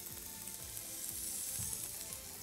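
Mushrooms and spinach sizzle steadily in a hot wok with olive oil, a constant crackling hiss with faint stirring scrapes.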